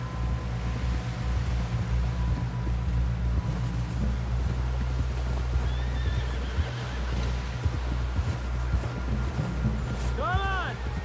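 A horse whinnies and hooves clop in Red Dead Redemption 2, under ongoing game dialogue and a low rumbling backdrop, with a clear neigh near the end.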